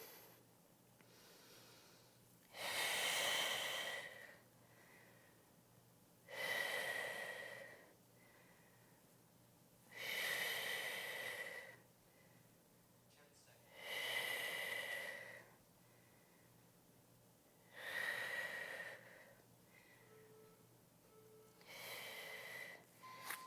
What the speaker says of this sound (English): So inhale, drop the belly, exhale to round.